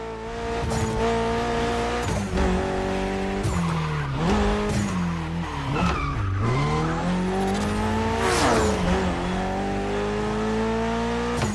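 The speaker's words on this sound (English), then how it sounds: "There's an absolute classic heading your way, a grail among collectors and Jim's greatest pride, the Mustang Boss 429." A Ford Mustang Boss 429 muscle car in the racing game The Crew skids with long wailing tire squeals over a rumbling, revving engine, pitch sweeping up and down as it slides, loud and continuous.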